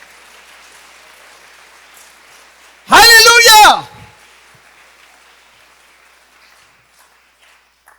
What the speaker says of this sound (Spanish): Alguien que aplauda mejor a la gracia de Dios en esta hora